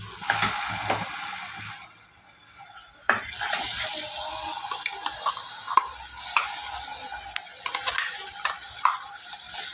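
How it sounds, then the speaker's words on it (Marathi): Besan masala frying in oil in a pan, a continuous close sizzle punctuated by repeated sharp spoon clicks and scrapes of stirring, briefly quieter near the start before the hiss resumes. "आता आपल्याला मसाला तेलामध्ये चांगला फ्राय करून घ्यायचा आहे."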